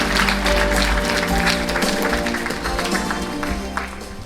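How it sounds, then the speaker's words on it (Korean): A large crowd at a book launch event for a provincial governor applauds loudly and continuously, a dense sustained wash of clapping filling the hall with a low background hum beneath. "큰 박수 부탁드리겠습니다."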